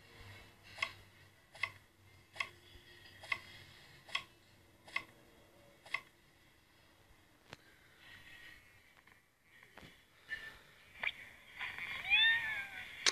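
Cartoon cat meowing in the Toca Kitchen cooking game, a short repeated synthetic mew roughly every second for about six seconds, then quieter game clicks and chimes with a brighter rising jingle at the end.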